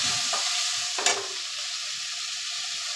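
Tomato with crushed ginger, garlic and coriander goes into a pan of fried onion, giving a steady close sizzle with a couple of scraping stirs near the start.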